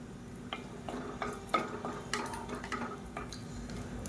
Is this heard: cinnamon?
yes